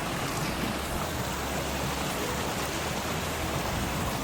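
A fast mountain stream on a trek near a small hydro power project, heard as a loud, steady, broadband rush of flowing water with no voices.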